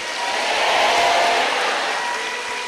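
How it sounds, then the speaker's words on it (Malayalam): A church congregation claps together in a dense, continuous burst of applause, loud and sustained throughout. "നല്ല ശബ്ദം മുഴുവൻ ഉയർത്തി നന്നായിട്ട് കൈയടിച്ച് ഹല്ലിലിയ പറയാം"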